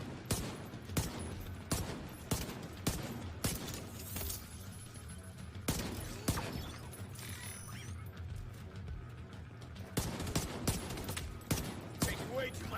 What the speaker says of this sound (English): Taking way too much fire